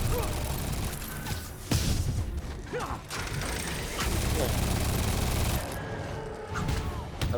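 An enemy's minigun in Marvel's Spider-Man fires rapid, rattling bursts with mechanical whirring and metallic clatter, loud and continuous over a layer of game noise, with brief sharper impacts scattered through.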